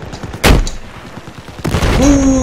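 A helicopter blows up amid gunfire in a first-person shooter game, with two sharp loud blasts about a second apart and a rising tonal sound after the second.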